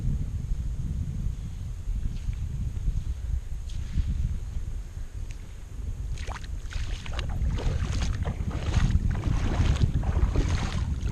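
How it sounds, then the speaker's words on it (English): Wind blowing steadily outdoors at a hunting site, a loud continuous low rumble of gusts buffeting the microphone, growing rougher and stronger toward the end. "It's going to get windy."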